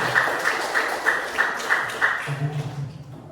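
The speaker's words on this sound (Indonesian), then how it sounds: "Oke, tepuk tangan untuk kita semuanya." A classroom of students claps in a brief, rhythmic round, with spaced sharp claps over room noise and a voice joining near the end.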